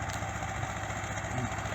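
A T-25 tractor engine labours under load while tilling with a Bomet 1.4 rotary tiller, a steady, loud, continuous drone with a rough mechanical rattle and no pauses.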